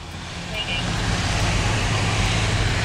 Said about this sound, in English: I'm back driving again.